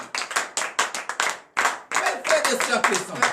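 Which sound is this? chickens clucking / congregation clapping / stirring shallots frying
congregation clapping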